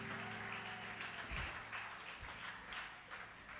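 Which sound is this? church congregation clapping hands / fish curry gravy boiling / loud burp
church congregation clapping hands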